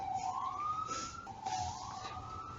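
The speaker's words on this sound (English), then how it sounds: "I'm gonna wait a while till the ambulance goes by" An ambulance siren wails past on a Hell's Kitchen street in Manhattan, a steady rising and falling tone, clearly audible over low city rumble with no talking.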